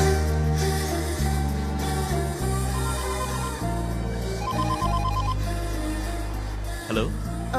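Mobile phone ringtone in a movie scene, a loud repeating melodic ring pattern playing on and on, close and clear with no talking over it.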